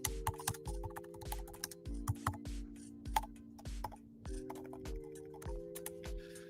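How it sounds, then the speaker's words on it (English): Computer keyboard keys clatter in quick, irregular bursts as a short query is typed, soft and close over a steady low background tone, with no speech. "Let's type that."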